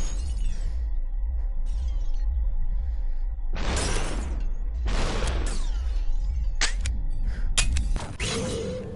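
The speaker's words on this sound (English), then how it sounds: "Let me break the glass for you." Glass shatters in the Superhot VR video game, two loud bursting crashes close together followed by smaller tinkling breaks and thuds, over a steady low game hum.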